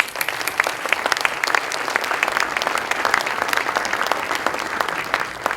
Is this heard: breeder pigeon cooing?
no